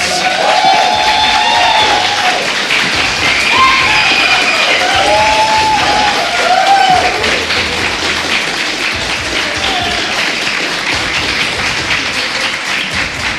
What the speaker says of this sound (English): The audience has been pretty fun here. The crowd has been awesome.